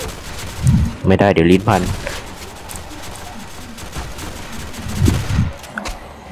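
Gunfire bursts in a zombie video game, loud sharp shots clustered near the start and again toward the end, with someone talking excitedly over the action.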